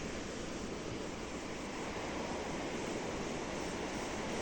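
Steady broadband roar of sea and wind at a seaside fort, with waves and gusts merging into one continuous, fairly loud wash with no voices.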